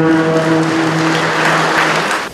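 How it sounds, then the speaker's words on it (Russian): Applause fills a juice factory opening ceremony in Samara, a loud, dense crowd clapping that carries on steadily, with a brief voice at the start, before it tapers off at the end. "давайте поддержим аплодисментами этот торжественный момент"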